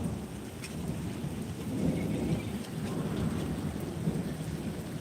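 Rain and hail pour steadily during a Kashmir thunderstorm, a continuous close hiss layered over a deep, sustained thunder rumble, with no voices.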